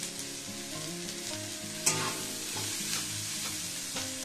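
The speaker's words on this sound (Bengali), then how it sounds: "এবারে দেখুন আমি এটা 2 মিনিট ভেজে নিয়েছি" Mixed vegetables for veg chow mein fry in a pan with a steady sizzle throughout, with scraping stir strokes and one sharp clatter near the middle, close and alone without voices.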